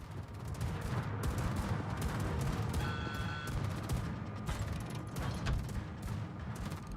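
Ship guns fire at a target in World of Warships, a dense, steady barrage of overlapping shots and booms that holds for several seconds, fairly loud with no talk over it.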